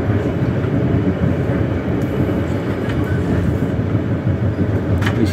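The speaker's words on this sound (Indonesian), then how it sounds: "Saat ini posisi kereta api tengah berada di petak antara Telawa sampai dengan Karangsono." Banyubiru executive class passenger train running on rails between Telawa and Karangsono, a steady loud rumble of wheels and carriage with faint rhythmic clatter throughout, no voices.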